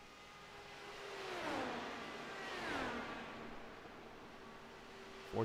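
An open-wheel race car pulling away from pit road at an Indianapolis 300 race, a faint engine whine sweeping down in pitch twice as it fades into distant track noise.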